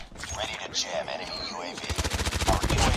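Rapid bursts of automatic gunfire in Call of Duty: Mobile multiplayer, with dense overlapping shots building into a steady loud volley in the second half, over busy game effects.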